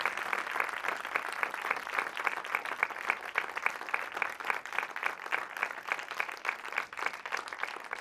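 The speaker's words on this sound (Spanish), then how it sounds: "Yo creo que le tenemos que dar un aplauso a Davide" A small audience claps steadily and evenly for several seconds, a dense patter of hands at moderate distance with no voices over it.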